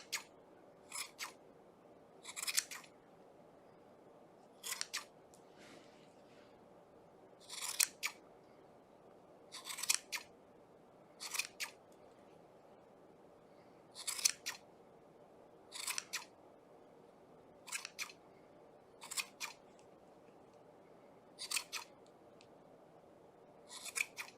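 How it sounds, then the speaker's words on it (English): Scissors trim a yarn pom pom, giving about fourteen crisp, close snips at a fairly regular pace with short quiet gaps between each cut. "just kind of trim it down and give it a little bit of a haircut"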